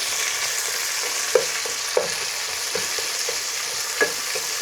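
Onions, with ginger and garlic already browned, fry in hot oil for beef liver bhuna, giving a steady close sizzle broken by a few sharp clinks and scrapes of a spoon stirring the pan.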